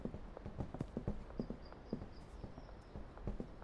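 Rapid, hard-soled footsteps in the video game Schedule 1, many overlapping steps clicking in an uneven rhythm over a low background hum, fairly close and moderately loud.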